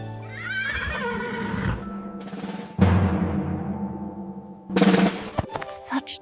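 A horse on a farm gives a strong whinnying neigh, several rising and falling bursts with brief gaps between them, loud and close with no voices over it.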